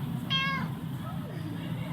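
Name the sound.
cat meowing in the video game Under Maintenance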